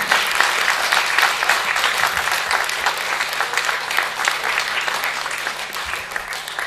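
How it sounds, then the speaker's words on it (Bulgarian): Steady applause from an audience at a school exhibition and premiere event, dense clapping filling the whole stretch at an even level without talk. "Аплодисменти за нея."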